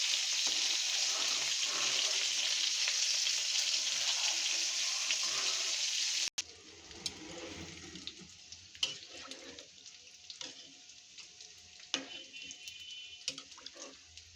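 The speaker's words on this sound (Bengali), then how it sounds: "দেখুন গাইজ, এই চুলায় মাছ ভাজা হচ্ছে।" Pangas fish frying on a stove, with a loud steady sizzle for about six seconds that cuts off abruptly into quieter, irregular crackles and pops.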